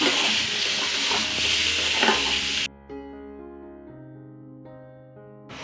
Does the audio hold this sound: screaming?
no